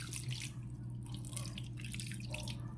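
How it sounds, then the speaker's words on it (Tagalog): Water poured into a paksiw cooking pot, a soft continuous dripping and trickling splash over a steady low kitchen hum, close and fairly quiet. "Lagyan natin ng tubig."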